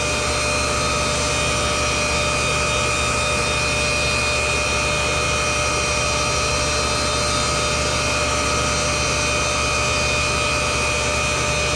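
A valve seat grinding wheel, dressed with a Norbide stick, grinds an industrial lathe chuck jaw, giving a loud, steady, unbroken high whine with a constant motor hum underneath throughout.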